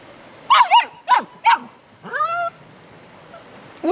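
A small dog on a travel day in an RV gives a quick series of high yips and whiny barks, then a drawn-out whimpering howl and one more yelp, loud and close with brief pauses between.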